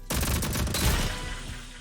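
Two submachine guns in the Rogue Company video game fire at once in a dense, continuous burst of rapid shots, loud and close, lasting nearly two seconds with no talk.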